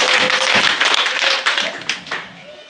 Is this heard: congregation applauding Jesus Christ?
yes